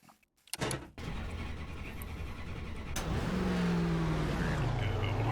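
A NASCAR ARCA Series race car circling Tsukuba in iRacing, its engine droning steady and loud, with a rising revving tone building toward the end after a brief quiet start.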